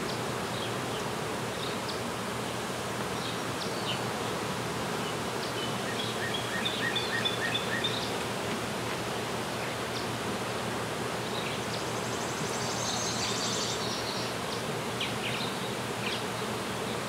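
Honey bees buzzing while being hived into a box, a dense continuous drone of many insects close by, steady throughout with no talk.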